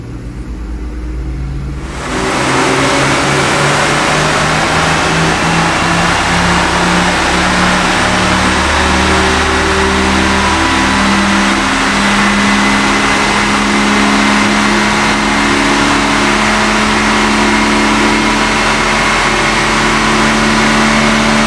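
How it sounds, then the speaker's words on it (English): A roughly fifty-year-old Jaguar strapped to a dynamometer starts up, then its engine runs loud and steady under load, its pitch climbing slowly while it struggles to rev past about 4,000 RPM. "I've got the car strapped down and warmed up. Let's find out how much power this makes."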